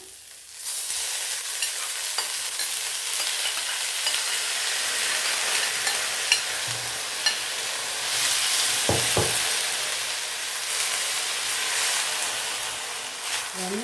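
Sour gongura leaves (pulicha keerai) fry in a pan, producing a continuous bright hissing sizzle that swells at times, with a few soft knocks and scrapes of stirring and no talking.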